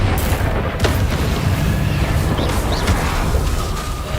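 The Incendio fire spell from Hogwarts Legacy goes off as a loud, rumbling burst of fiery roar that carries on for several seconds with no voices over it.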